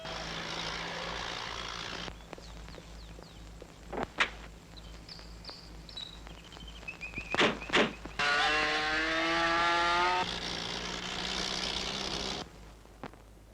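A car pulls away in a Tamil comedy film scene, its engine rising into a steady drone for a few seconds over background score and scattered effects, moderately loud with no talk.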